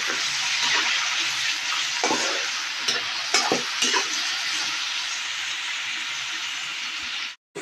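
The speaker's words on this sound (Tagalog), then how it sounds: "Lagay na po natin ang kamatis." Freshly harvested tomatoes hit a hot frying pan for ginisang kamatis with egg, letting out a loud, steady sizzle with scraping stirs that runs unbroken for several seconds before cutting off abruptly.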